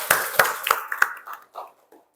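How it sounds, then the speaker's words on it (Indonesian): A handful of close hand claps in a classroom, four firm ones followed by a few softer, scattered claps trailing off into silence. "Tepuk tangan buat kita semua."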